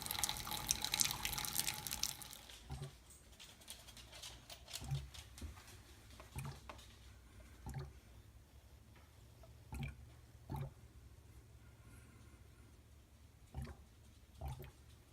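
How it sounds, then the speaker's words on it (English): Fermenting Framboise raspberry beer bubbles away through an airlock with soft, intermittent gurgling pops spaced a second or two apart, after a brief watery splash at the start. "So that's the Framboise bubbling away."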